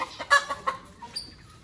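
A hen clucking while birds are handled and caught for a cage: a few short, close clucks followed by a higher squawk, with no talking.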